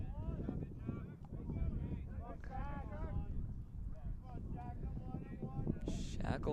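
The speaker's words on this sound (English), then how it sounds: "it is quite windy out here" Wind buffets the microphone at a college baseball game between Tufts and Bowdoin, a constant low rumble beneath a commentator's talking.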